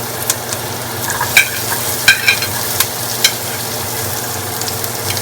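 Onions, curry leaves, green and dried red chillies and garlic frying in oil in a pan, a steady close sizzle broken by several sharp clinks and scrapes of stirring, with no talk.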